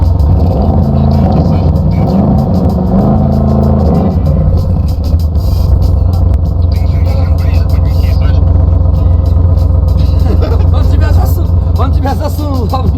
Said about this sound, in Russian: На газ нажми на паркинге.